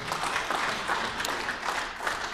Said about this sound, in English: Why are they clapping though?